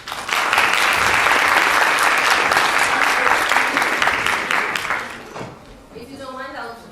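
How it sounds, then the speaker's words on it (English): A lecture audience breaks into loud, dense applause for a guest speaker, sustained for about five seconds before tapering off, followed by a voice beginning to speak. "let's give a round of applause to Mr."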